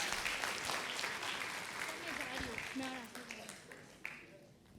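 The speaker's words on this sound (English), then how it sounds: "Give yourselves a big round of applause." Audience applause at a school awards ceremony in India, a steady wash of clapping that carries through the whole stretch, with some voices and background sounds mixed in.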